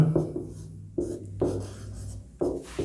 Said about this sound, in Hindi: मैं क्वेश्चन लिखता हूं कि a का मान